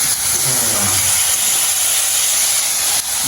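Onions frying in a pan for idiyappam kothu in a Jaffna home kitchen, a loud, steady sizzle and hiss that runs unbroken throughout, with faint low sounds near the start.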